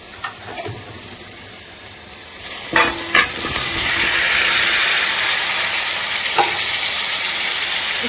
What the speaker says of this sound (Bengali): কড়াইয়ের মধ্যে আমি অল্প পরিমাণে তেল দিয়ে এঁচড়গুলো ভেজে নেব হালকা করে একটু ভেজে নেব